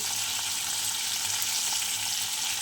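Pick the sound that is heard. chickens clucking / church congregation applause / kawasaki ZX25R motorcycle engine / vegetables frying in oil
vegetables frying in oil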